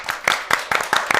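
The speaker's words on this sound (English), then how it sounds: "So let's please give Bao a nice round of applause." An audience at a talk on children's mental health claps, a brief burst of uneven hand clapping from a small group, close and fairly loud.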